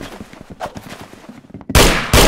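Firework launcher weapon firing in a video game, two loud sharp blasts near the end after a stretch of quieter game sounds, with the second blast cutting in hard.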